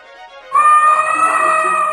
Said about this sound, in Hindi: हाथी डर के चिल्लाता है और उसकी दौड़ तेज हो जाती है